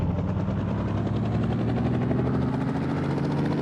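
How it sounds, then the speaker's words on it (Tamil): A helicopter heard as a steady, continuous rotor and engine drone with a low, throbbing hum, fairly close and even in level throughout, with no voices. "ஹெலிகாப்டர்"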